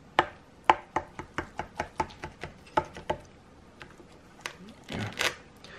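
A knife cutting through baked Aldi lasagne with a crispy cheese crust, a rapid run of crisp, crunchy chops followed by a few scattered cuts and a brief scraping rustle, close and fairly quiet.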